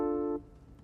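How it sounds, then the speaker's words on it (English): A minor chord on a keyboard rings out as a sustained held tone for under half a second, then cuts off, leaving faint room noise; no talking. "minor chords that sound a little more dark or mysterious"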